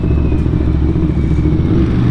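A Ducati Monster 937 with a Termignoni exhaust rumbles loud and close in a steady, deep, throbbing idle with no voices.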